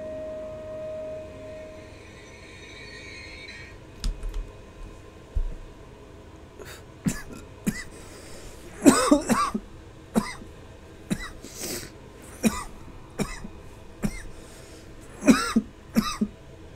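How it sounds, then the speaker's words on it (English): A man coughs repeatedly in harsh, close bursts, about a dozen fits spaced a second or so apart, over a faint steady background hum. "the amount this is making me cough just shows me that there's something up with my fucking lungs"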